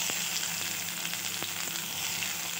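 A little cumin and garlic fry in a pan as they brown lightly for a ridged gourd sabzi, making a steady close hiss dotted with faint pops and spoon clicks, with no talking.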